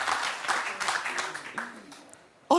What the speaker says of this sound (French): Pourquoi on applaudit?